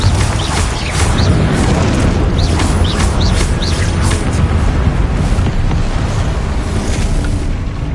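A Confringo fire spell explodes in Hogwarts Legacy, a steady loud booming rumble running throughout with high chirping, whistling effects scattered over it and no talk.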